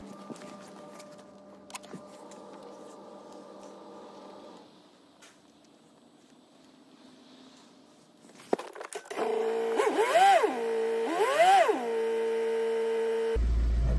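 A 2015 Volvo V40 1.6D diesel with freshly replaced injectors cranks over and fires up after a quiet stretch, then settles into a loud, steady idle with wavering tones rising briefly during the start.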